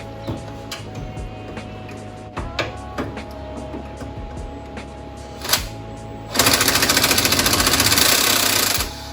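A power tool rattles hard on a 10 millimeter bolt on a Honda Prelude H22/F20B engine, a loud, close, rapid hammering burst of about three seconds following quieter clinks of tools and parts.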